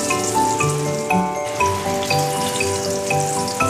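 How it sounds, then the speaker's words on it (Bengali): Pieces of eggplant fry in a pan of hot oil, giving a steady close sizzle that stays loud and even throughout, with no one speaking. "বেগুনটা একটু ভেজে নিয়ে তুলে রাখবো"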